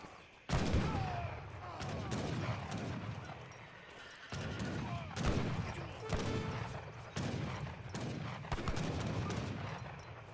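Rifle riders fire in the video game Age of Empires III, with repeated bursts of gunshots in irregular volleys over a background of battle noise and horses.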